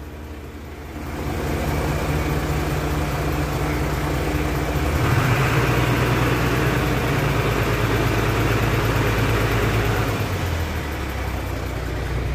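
Isuzu Forward dump truck engine idling, then rising to a steadier, heavier hum as the PTO raises the dump box, before settling back near the end; loud and close, no talking.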